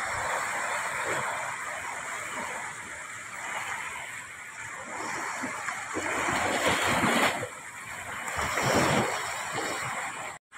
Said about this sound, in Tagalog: ito po yung dagat Ayan ang dagat